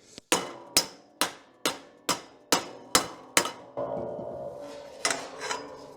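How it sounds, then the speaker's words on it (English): A rubber hammer strikes a metal tube in a roof console build, with about eight loud, evenly spaced close blows followed by a scraping rub and a few lighter knocks. "put it in there and bash it with a rubber hammer."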